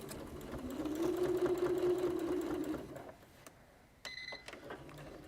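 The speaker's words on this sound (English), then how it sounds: "I'm just going to lift up the foot and then twist my sewing machine" A sewing machine stitches steadily with a mechanical whir for a couple of seconds, then stops, followed by a few clicks and small clatters as the presser foot is lifted, quiet and close.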